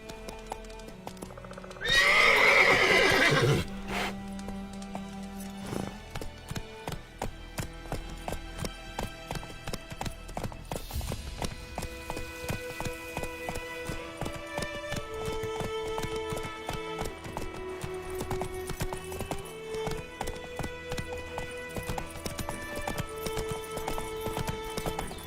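Horse in a game, a loud neigh near the start, then a steady trotting clip-clop of hooves that runs under music throughout.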